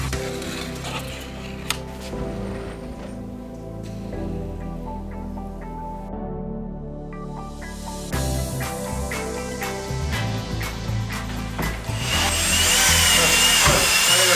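A power screwdriver whirs and drives self-tapping screws into Pladur plasterboard inside a shipping container being converted into a home, with steady motor whine shifting in pitch between screws, loud and close throughout.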